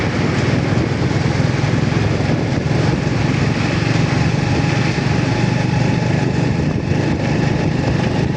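A motorcycle ridden one-handed along a rural road between Panchgaon and Gazipura. Its engine gives a loud, unbroken drone with rushing wind noise, and no one talks over it.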